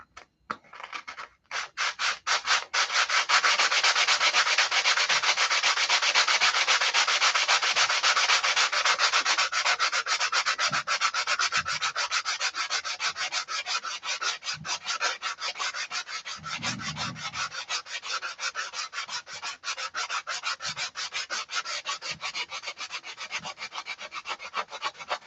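Hand sanding hard wood with dull sandpaper, a close, continuous rasping scrub that holds steady in rapid back-and-forth strokes for the whole stretch, with no talk.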